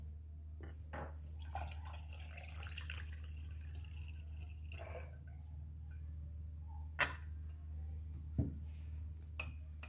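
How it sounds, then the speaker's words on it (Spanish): Cold water trickles through a funnel into a thermos, a faint, close stream with a few sharper drips and splashes standing out near the end, against a low background hum. "y luego el agua fría."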